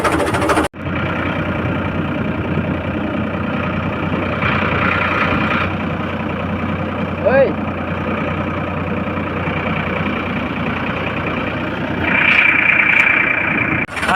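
A tractor engine runs steadily at an idle on a Punjabi farm, a continuous low rumble lasting throughout at a moderate, even level, with a brief rise near the end.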